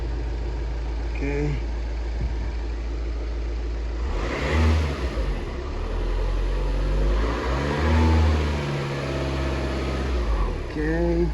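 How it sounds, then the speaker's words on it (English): A VW diesel engine runs and rises to about 1500 RPM, a steady low drone with a couple of swells in pitch, while a person talks briefly over it. "start the engine running on idle, which I'm already running"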